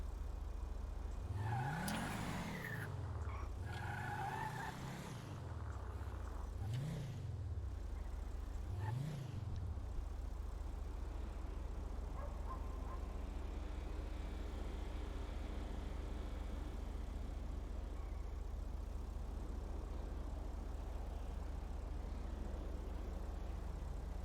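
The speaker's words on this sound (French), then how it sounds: "je reste le moteur allumé là" A car engine in a video game idles with a steady low hum after several rising and falling revs at the start, continuing unchanged to the end.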